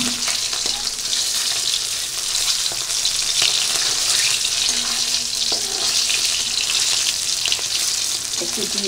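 Eggs frying in a pan, a loud steady close sizzle with intermittent spatula scrapes and light clinks running throughout.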